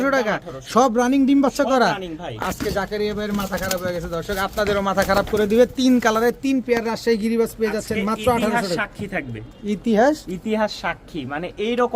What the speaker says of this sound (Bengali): তিন তিন জোড়া রাজশাহী গিরিবাজ কবুতর